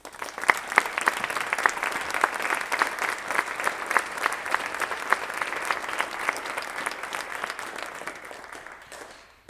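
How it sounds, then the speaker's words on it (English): A room of people at a book and performance event breaks into applause, a sustained, moderately loud patter of clapping that fades out after about nine seconds. "I just want everyone to give a round of applause for Vivian."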